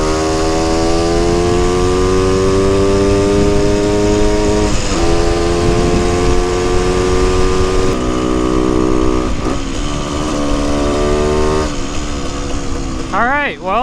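A rebuilt Honda MT250 motorcycle engine with a new intake manifold runs rough and boggy, a loud, close, steady buzzing idle that holds for most of the time before a few quick revs near the end.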